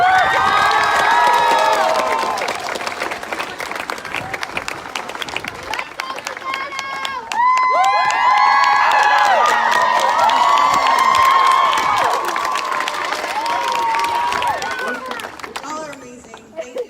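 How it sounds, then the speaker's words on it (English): A school assembly crowd of students claps and cheers for a speaker at a Rochester, Minnesota event, with loud whoops and shouting that swell midway and fade near the end, voices mixed in. "give her a warm round of applause"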